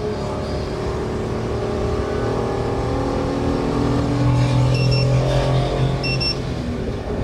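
A mini van engine labours steadily uphill in third gear, a continuous loud drone with a low rumble and a slight rise in pitch midway, no talking over it.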